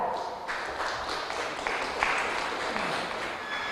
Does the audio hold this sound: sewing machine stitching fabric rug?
no